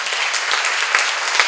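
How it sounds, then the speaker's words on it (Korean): Steady crowd applause during a Korean church seminar on Hosea, dense continuous clapping with a few sharper claps standing out. "박수로 맞으시오"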